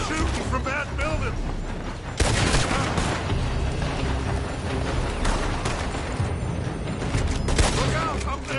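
Gunfire in a PS4 game erupts in dense bursts and rattling volleys, loud and continuous, mixed with mechanical clatter and booms, while voices talk underneath.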